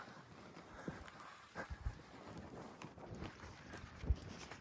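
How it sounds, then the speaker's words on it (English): Horses' hooves clip-clop on an outdoor open-space trail, a few faint, scattered thuds heard at a distance over a steady background hiss. "Some more horses coming up over there."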